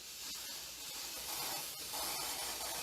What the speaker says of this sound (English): I'm gonna go ahead and spray the inside,